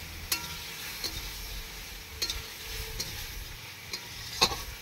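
Meat frying in a pan over a village cooking fire, a steady close sizzle with occasional pops and crackles, no talk.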